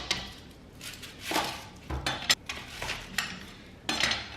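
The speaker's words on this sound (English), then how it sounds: "I just kind of cut it, slice it like that first, and then just take off there" A kitchen knife slices through an onion on a cutting board in several quiet, separate strokes with light knocks and scrapes, with a soft thud partway through.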